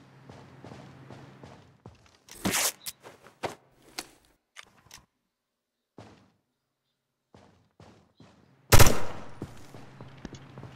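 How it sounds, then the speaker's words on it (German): Gunfire in America's Army: Proving Grounds, a military shooter game: a few sharp shot bursts, one around two and a half seconds and a louder one near nine seconds, separated by quiet stretches with faint footsteps and game noises. "Ich hab ein paar Schüsse abgefeuert"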